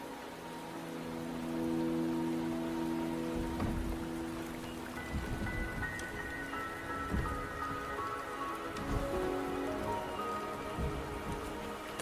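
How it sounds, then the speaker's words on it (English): Steady rain patters on surfaces in the video game Wuthering Waves, a continuous moderate hiss with scattered drops, while soft sustained musical tones drift underneath throughout. "The rain is subsiding"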